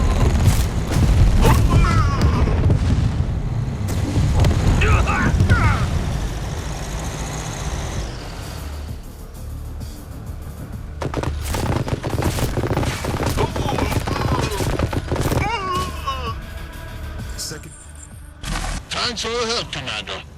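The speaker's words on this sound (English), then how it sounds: "Commander, we are under fire here." Battle in the strategy video game Tempest Rising, with dense fusillades of gunfire, booming explosions and machine-gun bursts, loud and continuous, mixed with in-game unit voice lines.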